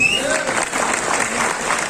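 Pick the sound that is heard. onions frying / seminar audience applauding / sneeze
seminar audience applauding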